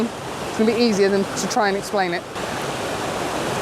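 Water rushes steadily along a stream as it curves past, a constant broadband whoosh heard close by under someone talking throughout.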